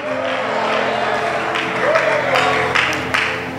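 A church congregation gives sustained applause in praise, a dense wash of clapping that swells and holds throughout with a few sharper claps, with crowd voices mixed underneath.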